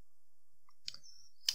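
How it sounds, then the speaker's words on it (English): Two sharp isolated clicks from a computer, like keys or a mouse button being pressed, spaced about half a second apart in near silence. "I'm just gonna type your name"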